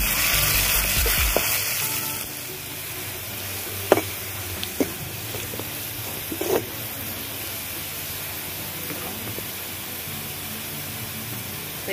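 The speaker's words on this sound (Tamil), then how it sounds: "கடுகு பொரிஞ்சிருச்சு" Mustard seeds, pepper, dried red chilli seeds and onion fry in a pan with a steady, close sizzle and hiss, broken by a few sharp pops and clinks. No speech is heard.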